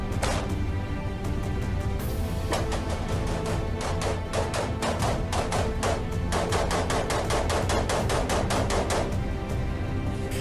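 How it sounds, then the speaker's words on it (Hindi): Heavy gunfire exchanged in the Ukraine war outside Kyiv, with dense, rapid bursts of automatic fire and sharp cracks running continuously and loudly throughout. "आमने सामने की जंग में दोनों ओर से ताबड़तोड़ फायरिंग हो"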